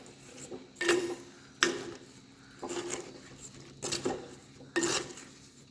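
Mango curry is mixed in a pot with a utensil: five evenly spaced scraping, knocking strokes against the pot's sides, fairly close, with no speech.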